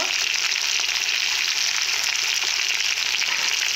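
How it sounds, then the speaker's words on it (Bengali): Potatoes fry with salt in a pan for a vegetarian potato and pea dish, giving a loud, dense, unbroken sizzle close by with no talking. "লবণ দিয়ে কিছুক্ষণের জন্য আমি কষে নেব।"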